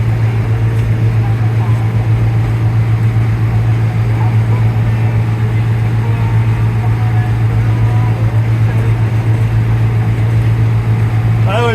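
A farm tractor runs steadily while mowing hay on hilly ground, its engine a constant low drone throughout with a strong, unchanging hum and no breaks.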